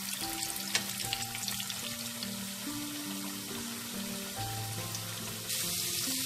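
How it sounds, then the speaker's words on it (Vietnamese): Potato pieces frying in oil over medium heat for honey butter fries, a steady dense sizzle and crackle filling the clip with no voices. "Mình chiên cái này trên cái lửa vừa thôi hắn các bạn,"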